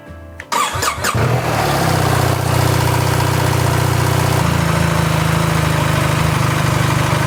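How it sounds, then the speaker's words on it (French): A car engine cranks for about a second with a few choppy turns, catches, and settles into a loud, steady, even idle heard close up with no talking. "Je mets le contact et je vais démarrer."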